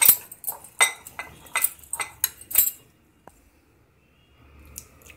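Gram flour batter stirred with water in a metal bowl, heard as a quick run of sharp utensil clinks and scrapes that stops halfway through, leaving near silence with a few faint taps.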